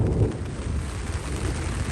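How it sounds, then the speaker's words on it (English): Thunder rumbling during a rainstorm at a mountain creek camp in Wyoming's Wind River Range, a continuous low roar with steady rain hiss, loud and close, with no voices. "Getting some thunder."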